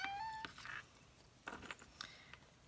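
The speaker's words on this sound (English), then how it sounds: "I don't know if you heard my cat." A house cat meows indoors: a few short, faint mewing calls spread across a couple of seconds, quiet and close, with no one talking.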